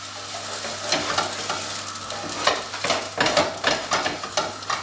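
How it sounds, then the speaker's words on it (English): Fried rice sizzling and crackling steadily in a hot pan while soy sauce is poured over the top, with a spatula scraping and stirring in irregular bursts close by. "There you go, a wee bit of soy sauce over the top."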